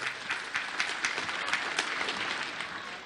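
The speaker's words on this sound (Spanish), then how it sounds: "Un fuerte voto de aplauso para nuestro hermano presidente." A crowd at a school inauguration event gives strong applause for the president, a continuous wash of many clapping hands at moderate distance with slight swells.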